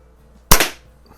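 A single sharp, close, loud crack of a Daisy BB gun firing, with a short tail fading right after, otherwise quiet.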